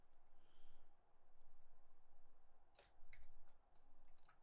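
Several sharp computer mouse clicks land in a quick cluster near the end while a bottle is being modelled, faint and close against a quiet room hum.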